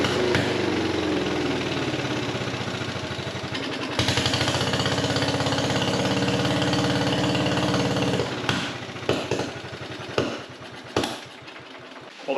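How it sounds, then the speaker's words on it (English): A 1957 Gard'n Mast'r garden tractor engine that had been parked for decades runs loud and rough, then sputters into uneven pops and bangs, apparently with a damaged muffler, before cutting out. "Let's fire it up again and see what happens."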